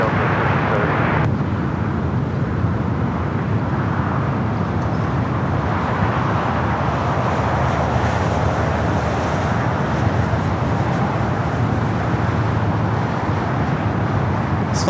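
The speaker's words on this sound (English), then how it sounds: "This flight coming in from Atlanta, Georgia, flight 1256 and A321." Delta Airbus A321 jet arriving from Atlanta and landing at LAX: a steady, broad jet engine roar that holds evenly throughout fifteen seconds, heard from a distance amid airport ambience with no talking.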